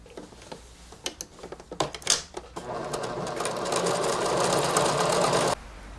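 A sewing machine stitches a fabric tree skirt in a steady, close burst lasting a few seconds, after some handling clicks and taps.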